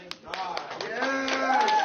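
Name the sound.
audience clapping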